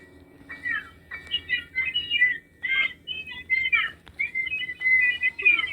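Bird chirps in the Granny horror video game: a run of bright, rapid tweets and trills, moderately loud, repeating in short bursts over a quiet low background.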